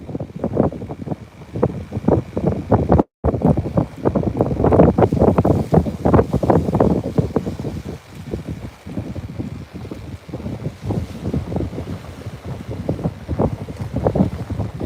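Wind gusts of about 19 mph blow across a Texas saltwater bay, roaring continuously into the microphone with uneven bursts and one brief dropout.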